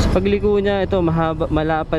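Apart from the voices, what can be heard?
None of the usual background noises is heard.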